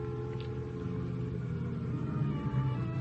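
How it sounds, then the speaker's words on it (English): A car arrives outside in a radio drama, its engine a steady low rumble that swells slightly near the end, heard alone without voices. "Then I hear a car outside."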